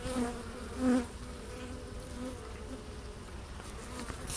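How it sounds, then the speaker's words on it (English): Honeybees buzz steadily at an open hive during an inspection, a continuous droning hum with one brief louder swell as a bee passes close, no voices. "first time he ever got up close and personal with honeybees"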